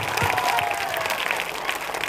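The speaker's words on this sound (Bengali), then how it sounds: "বন্ধুমহল কমিটির প্রতিটি সদস্যকে একটা চরক করতালি হবে" Steady clapping from an audience at a community event honouring the Bondhumohol committee, loud and continuous throughout.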